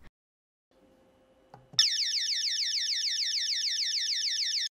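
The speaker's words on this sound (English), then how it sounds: "The alarm system triggers an acoustic alarm as a deterrent when the SOS button on the remote control or" A home alarm system sounds its acoustic siren, set off by the SOS button on the remote or base unit: after a few faint clicks, a loud, steady warbling electronic wail cuts in abruptly and holds for about three seconds alone.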